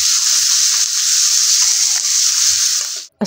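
Home-grown red amaranth greens and bottle gourd fry in a pan for dinner, a loud, bright sizzling hiss with soft stirring knocks underneath that cuts off abruptly at the end.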